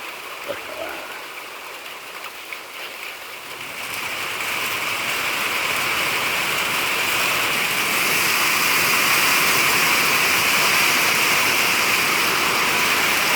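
Hail falls on the roof of a barn, starting as a softer patter and swelling after a few seconds into a loud, dense, continuous roaring rattle heard from inside.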